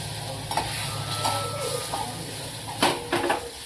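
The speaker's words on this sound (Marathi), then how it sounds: "टोमॅटो छान परतून घ्यायचं" Tomatoes and spices sauté in a pan for a black dry peas gravy, a steady sizzle broken by several clanking spoon stirs and scrapes against the pan, close by, with no talk.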